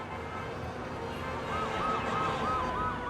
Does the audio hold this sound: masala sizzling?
no